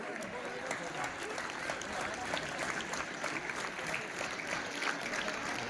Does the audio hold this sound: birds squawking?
no